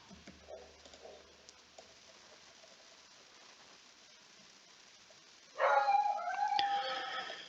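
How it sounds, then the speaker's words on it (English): A pet dog named Jack howls in the background of an indoor room, a single drawn-out, wavering howl that rises suddenly out of near quiet and carries on for about two seconds, moderately loud. "that's my lovely dog in the background"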